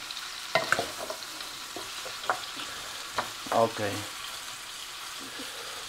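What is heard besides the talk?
vegetables frying in a pan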